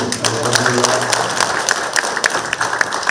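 Applause at a regional government town-hall meeting with a provincial governor in Bonghwa, clapping spread through the room, with speech-like sounds mixed in over the first part and sharp individual claps scattered throughout.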